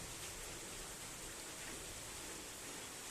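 Heavy rain falls in a continuous, even hiss that stays faint and unbroken throughout.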